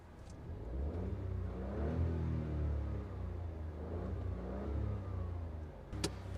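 Hyundai car engine heard from inside the cabin, a steady low hum with a muffled mid rumble that rises gently, close and fairly quiet, with a brief click near the end.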